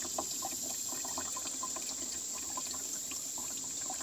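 Filtered water pours steadily into a jug, a continuous splashing trickle with small drips and bubbles, heard up close and unbroken with no talking.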